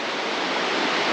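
Water roars steadily over a spillway in the Black Canyon of the Gunnison, a dense, continuous rushing wash close by with no break or voices.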